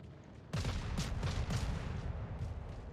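A burst of heavy naval guns in the warship game World of Warships, with several loud booming shots rolling out close together after a brief quiet start and fading into a rumbling tail.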